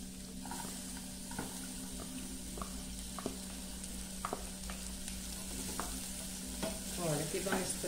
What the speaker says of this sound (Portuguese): Vou esperar dar uma refogada aqui nesses temperos